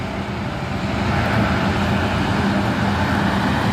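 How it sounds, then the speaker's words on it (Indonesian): A brown Fuso truck grinding up a steep hill at Bukit Kodok, its engine a steady, loud, continuous drone with road rumble throughout, no talk over it. "satu unit truk Fuso coklat menanjak ya"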